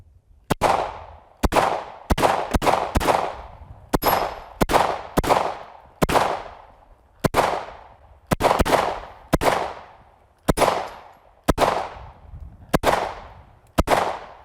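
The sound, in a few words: rapid gunfire, 17 rounds, in realistic-graphics video game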